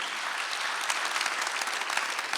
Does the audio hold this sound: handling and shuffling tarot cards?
no